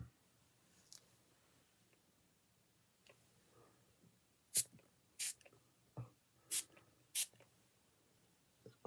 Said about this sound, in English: I'm just going to spray your face a bit more.